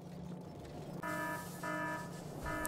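Low-coal alarm in the Factorio mod Warptorio 2, a repeating electronic tone that sounds in three separate bursts over a steady low background hum, fairly clear and with no talking.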